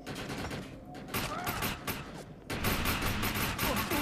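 Pistol fire in the game Defiance, amid a mutant-filled area: a steady string of fairly quiet, clipped shots with a muffled battle din underneath that swells louder partway through, and no voices.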